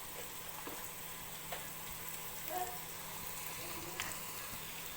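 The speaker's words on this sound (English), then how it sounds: "So we'll leave this to fry off for say another 2 to 3 minutes and we'll come back to it." Diced vegetables fry in a pot for minestrone soup, making a steady, faint sizzle with an occasional soft stir or clink, and no talk over it.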